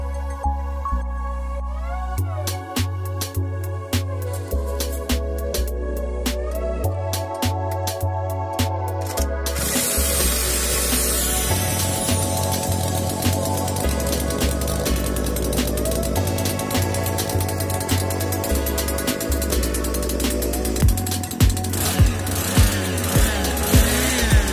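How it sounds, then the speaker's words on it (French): A homemade thermal-engine motor scooter engine is spun by a cordless drill, first a stuttering whine, then catching into a loud, steady buzzing two-stroke drone with bursts of revving, close up. "avec une perceuse je vais pouvoir m'embrancher dessus et le démarrer"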